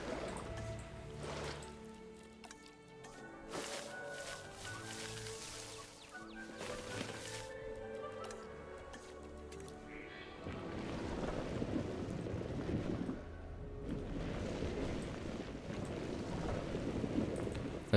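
Flowing water from a small river in the dinosaur park game Jurassic World Evolution, a steady broadband rush that swells louder in the second half, with tonal game music and ambience over it.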